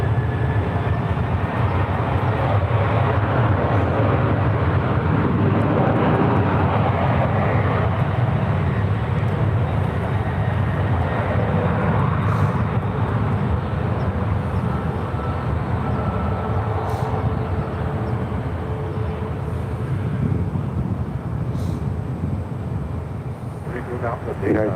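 A 20-year-old Delta Airlines Boeing 737-800 takes off for Seattle, its jet engines giving a loud, sustained roar that slowly fades, with a voice talking over it.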